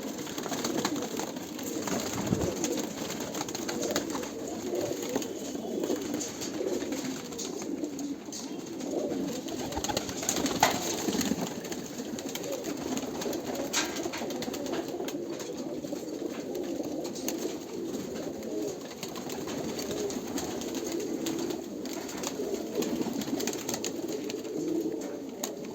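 A female Sialkoti pigeon coos in a steady, low, throaty murmur that continues throughout, with other birds faintly present and no talk.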